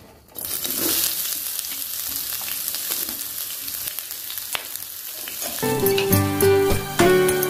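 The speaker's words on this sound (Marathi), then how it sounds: "धन, खोबरं, लसूण आणि कांदा, हे एवढं साहित्य व्यवस्थित परतून घेऊया" Coriander, coconut, garlic and onion frying for an egg curry gravy, giving a steady loud sizzle with occasional stirring scrapes and a clink near the end.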